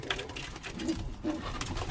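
Birmingham Roller pigeons coo softly in their loft, low murmuring calls repeating against a steady, noisy background with no one speaking.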